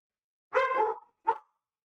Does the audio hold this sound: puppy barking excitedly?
yes